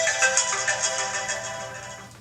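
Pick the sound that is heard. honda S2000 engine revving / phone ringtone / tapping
phone ringtone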